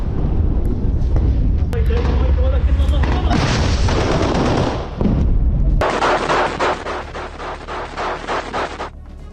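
Loud, sustained gunfire crackles in rapid bursts with heavy booms in Gaza, AK-47s and rocket launchers firing continuously nearby.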